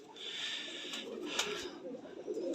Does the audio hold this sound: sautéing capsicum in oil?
no